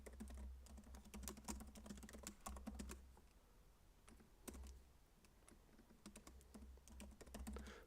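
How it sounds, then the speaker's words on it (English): Someone types on a computer keyboard in quick bursts of close, crisp keystrokes with short pauses between runs, quiet overall with a low background hum and no talk. "Just typing stuff out here."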